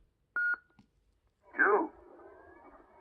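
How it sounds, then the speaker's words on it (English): A Graflex lightsaber sound board sounds a short electronic beep, then a swelling synthesized whoosh with a faint lingering hum, close and clean with no one talking. "Hold for the 2nd beep."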